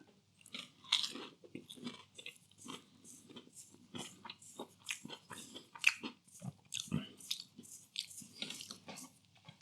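Someone biting and chewing cheap supermarket battered white fish, close and quiet, a steady run of soft crunches and wet chews with no talk.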